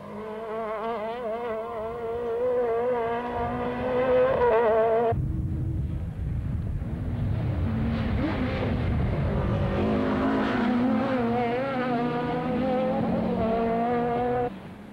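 Touring cars, including a green Alfa 155 Super Turismo and a BMW, race on a city circuit in Belgrade, with high-revving engines whining and shifting pitch as they pass close by, continuous and loud.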